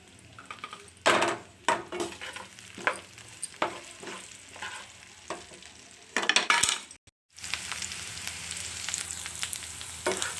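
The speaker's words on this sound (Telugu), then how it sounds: "వెల్లుల్లి రెబ్బలు కొంచెం కరివేపాకు అండి ఇవి కూడా ఒకసారి లైట్గా నూనెలో వేపుకుందాం" Garlic cloves, curry leaves and green chillies fry in oil with a steady, close sizzle, broken by repeated stirring scrapes and spoon clatters against the pan, a brief silent gap, then continuous crackling frying resumes.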